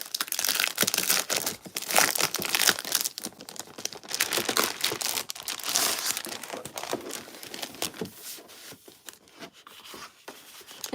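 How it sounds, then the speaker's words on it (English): A package of 12 by 12 scrapbook paper is opened by hand, producing loud, close, continuous crinkling and crackling of plastic wrap with bursts of tearing and rustling throughout. "This is just 12 by 12 paper. I'll open this."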